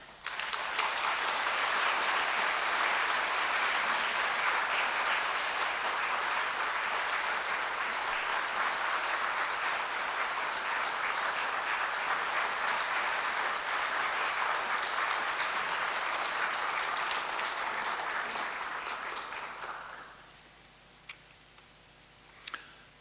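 A church audience in Korea gives sustained, dense applause to welcome a visiting professor coming up to preach. The clapping stays loud and steady for about twenty seconds, then drops away into near quiet.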